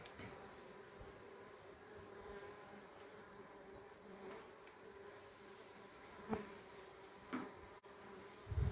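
Melipona beecheii stingless bees arriving at a newly placed hive after a colony split, a steady close buzzing drone of many insects throughout, with a few brief louder knocks and thumps near the end.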